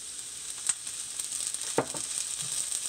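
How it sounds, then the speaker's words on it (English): Food sizzling in hot sesame oil in a pan for a noodle dish, a steady close crackling hiss with a few sharper pops and stirring clicks. "Oh yeah, she's sizzling."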